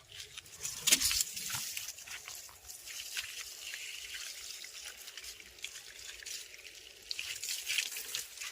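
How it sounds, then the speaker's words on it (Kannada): Water from a pipe splashing and trickling onto garden plants, a soft uneven patter with a louder splash early on and faint rustles, moderately close. "ಈಗ ಹೋಗ್ತೀನಿ, ನೀರು ಹಾಕ್ತೀನಿ."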